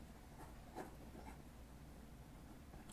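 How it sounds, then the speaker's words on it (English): Handwriting on paper, a soft, close scratching of a pen moving in short strokes, faint and steady against a quiet hiss, no talking. "And then I'm going to write making future reality."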